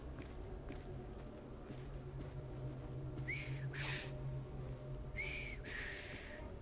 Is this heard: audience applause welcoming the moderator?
no